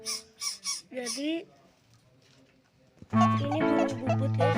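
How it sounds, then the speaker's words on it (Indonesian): A young greater coucal calls near a house: deep hooting notes repeated in a short run, then a quiet gap, then a loud, harsh, sustained burst of calling close to the microphone. "Ini namanya burung bubut guys."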